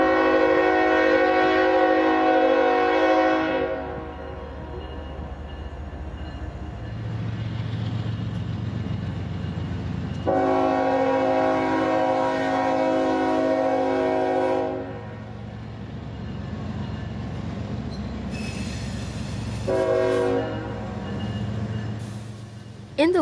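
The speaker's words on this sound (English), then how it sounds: "we find NS 153 departing the yard with 5 engines and quite a lot of train." Norfolk Southern freight train NS 153, led by five locomotives including an ES40DC, departs a yard in Irondale, Alabama. Its horn blasts loudly in long sustained notes over the deep rumble and grind of the engines and rolling freight cars.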